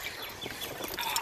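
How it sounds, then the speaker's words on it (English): Birds calling outdoors on a spring morning, a brief mix of chirps and clucking calls over steady background hiss, moderately near. "We can hear the birds chirping and all that kind of jazz."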